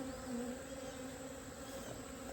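Honeybees drone steadily around an opened hive during a beekeeping inspection, a dense continuous buzz at close range with no voices.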